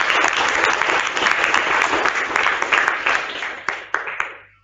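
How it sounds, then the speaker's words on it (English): An audience at a zonal level quiz competition applauds steadily with full, even clapping, holding for about four seconds before a few last claps fade out. "Give them a round of applause."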